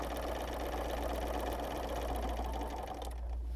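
A domestic sewing machine running free motion quilting at a steady moderate pace, a continuous close mechanical whir and rapid needle chatter with a low motor hum, easing off at the very end.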